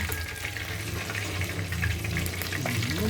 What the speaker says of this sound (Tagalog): Matagal-tagal lang sa pag-prito.